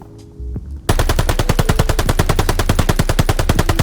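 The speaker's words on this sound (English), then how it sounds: "Let's see the pattern, how I start shooting here, go all completely to the roof." MP40 submachine gun firing in Call of Duty Vanguard, one sustained loud automatic burst of rapid, evenly spaced shots lasting about three seconds, with no talk over it.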